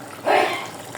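Water poured into a pan of cooking curry makes a brief, soft splashing gush that swells quickly and fades over about half a second.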